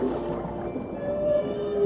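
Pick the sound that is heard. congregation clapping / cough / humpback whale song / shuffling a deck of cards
humpback whale song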